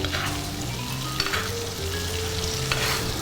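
Meat frying in a pan while butter is spooned over it, producing a constant dense sizzle with light stirring and occasional faint clinks, close and steady, no talking.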